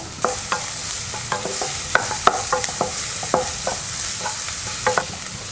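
Chopped onion sizzles steadily in hot oil in a pan as it is stirred, with irregular scraping clicks of a utensil on metal.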